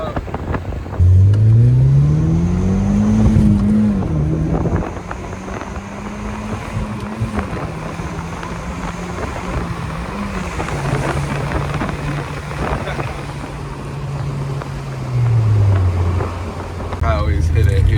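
An Audi TT convertible with the top down drives along a road, its engine note climbing and falling through gear changes amid buffeting wind, with a person talking over it.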